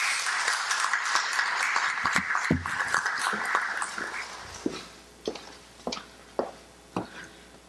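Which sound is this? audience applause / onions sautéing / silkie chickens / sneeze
audience applause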